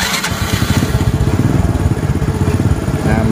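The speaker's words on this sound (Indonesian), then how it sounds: "Nah mesin udah hidup" A Honda Supra X 100 motorcycle engine idles up close, its steady rapid low putter loud and continuous with no talk over it.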